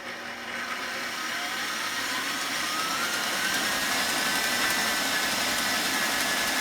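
Electric mixer whirring steadily at high speed while beating eggs for Greek tsoureki bread dough, a continuous close motor hum that rises slightly in pitch and stays loud without any talk.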